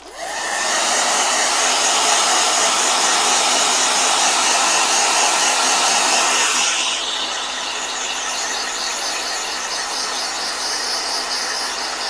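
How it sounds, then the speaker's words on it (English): A blow dryer runs steadily over a watercolor painting, a loud continuous whirring hiss that drops slightly in pitch and level partway through, then carries on alone without talk. "All right, blow dryer."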